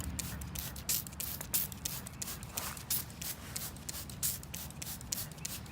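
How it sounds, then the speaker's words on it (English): A hand sprayer hisses in short, repeated bursts of homemade vinegar weed killer onto weeds, close up, with light rubbing and rustling between sprays. "spray it with some of the stuff I made with the vinegar to help kill the weeds"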